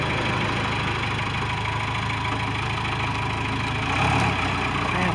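The engine of a 1996 Sky Trak 5028 telehandler runs at a steady, rumbling idle while the machine crab walks, with a brief surge in low rumble toward the end.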